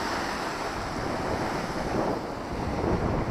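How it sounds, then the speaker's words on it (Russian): Steady roar of Black Sea waves breaking on a beach at Yalta, Crimea, with gusting wind buffeting the microphone throughout. "Смотрите, волны, море, вот это волны."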